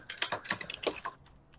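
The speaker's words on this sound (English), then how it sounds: "your keyboard's pretty loud." Loud computer keyboard typing, a rapid close burst of clacking keystrokes that stops abruptly after about a second.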